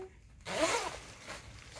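A zipper on a white iridescent garment is pulled in one quick rasping stroke, close and clear, followed by soft fabric rustle.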